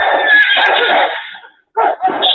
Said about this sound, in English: And then we heard the sound of baying hounds, horses, crashing through the trees,